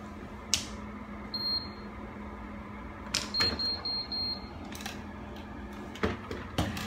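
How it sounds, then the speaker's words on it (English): A hair styling tool used for beachy waves gives short electronic beeps, one early and a quick run of several later, amid small handling clicks and a low hum. "Wait till it beeps."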